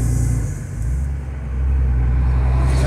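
A loaded VW Meteor 28-460 truck rumbles steadily in eighth gear around 1,100 rpm, its engine note dipping briefly twice as quick automated gear changes go through, then settling into a low, heavy drone.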